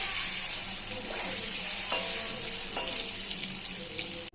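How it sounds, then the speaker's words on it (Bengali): Paneer pieces fry in hot oil with a steady, close sizzle and hiss that holds evenly throughout, broken by a few faint clinks, with no talking. "এই পনিরগুলো আমি ভেজে নিচ্ছি।"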